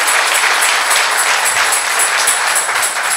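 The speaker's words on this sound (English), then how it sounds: "let's give God a hand clap of praise" A congregation claps hands in praise at a funeral service inside a church building, a dense, steady wash of applause from many people that stays loud and even throughout.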